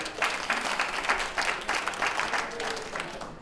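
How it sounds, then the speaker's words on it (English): Lukewarm studio applause from a morning show audience, a thin patter of clapping that rises and falls unevenly for a few seconds. "That's the first tepid applause of the morning."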